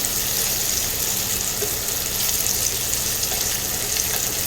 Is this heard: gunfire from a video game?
no